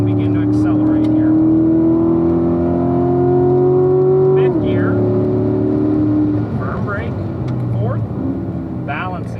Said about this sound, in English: I'm going to go ahead and begin to accelerate here.